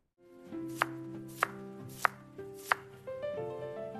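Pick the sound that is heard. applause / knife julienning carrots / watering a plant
knife julienning carrots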